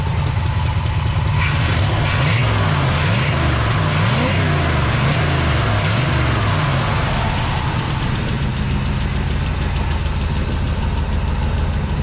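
A 1970 Chevelle V8 idles loud and close with a steady rumbling throb, its pitch rising and falling briefly early on before settling into an even idle.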